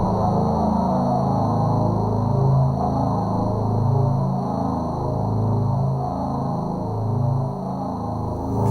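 A drum computer's guitar voice set to a very low decay holds a dense, buzzing low drone that barely changes in level for nearly nine seconds, with faint high steady tones above it.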